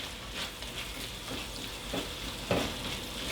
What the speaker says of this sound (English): Gonna let the cabbage to cook.